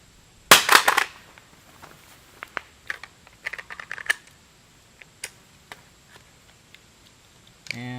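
A CSA vz. 58 magazine loaded with 30 rounds hits the ground in a drop test, giving one loud sharp clattering impact followed by scattered small clicks and rattles of handling nearby.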